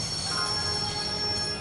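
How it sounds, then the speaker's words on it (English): A train in the video game Broken Sword: Shadow of the Templars Reforged grinds under its emergency brake, a loud steady rumble with high squealing wheel tones held throughout; no talk. "I'd always wanted to stop a train, and now was my chance."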